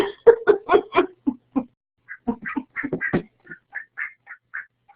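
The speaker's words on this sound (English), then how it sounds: "he started quacking" A young duck quacks repeatedly and close by after being put down, a rapid string of nasal calls followed by softer, higher chirping quacks.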